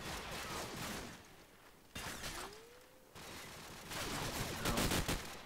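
Gunfire in the shooter game Counter-Strike, a shot fired through a wall during a competitive match: several short bursts of shots and mechanical clicks and rattles, fairly quiet and spaced across a few seconds.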